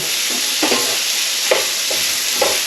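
Ginger, garlic, chilli, salt and pepper fry with chicken in a hot pan, giving a loud, dense, continuous sizzle up close, with soft scrapes of stirring every half second or so and no voices.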